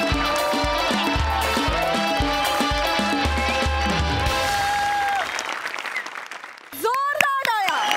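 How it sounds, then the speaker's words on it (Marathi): A studio audience at a Marathi comedy show applauds, a dense wash of clapping beneath loud music and voices before it thins out near the end. "जोरदार टाळ्या"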